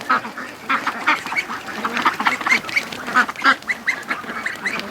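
Juvenile free-range ducks quack repeatedly in a busy, overlapping chorus of short calls, fairly close and continuous.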